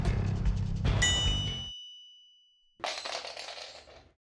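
New screwdriver snapping under a hammer blow while working on a BMW E36 bearing: a bright metallic clang and ring, a gap of silence, then a second ringing metal hit, close and alone.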